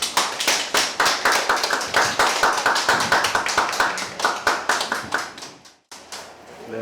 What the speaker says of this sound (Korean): 한 박수로 환영해 주시고